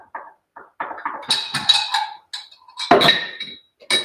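Small porcelain teacups clink together in a string of sharp, bright taps and chimes, close and clear with short pauses between them and no talking.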